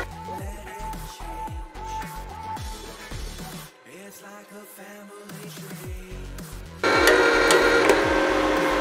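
The wire feed motor of a Mecafer Mikro MIG inverter welder pushes wire through the torch with a close, whirring mechanical hum that starts and stops in short bursts, followed by a louder steady hiss near the end.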